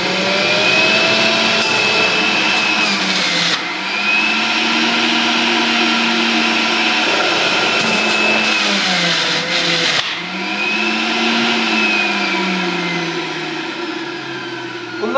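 Electric juicer pressing carrot and cucumber into juice, a loud, steady motor whine running throughout with brief dips in pitch as vegetables are pushed in, no voices.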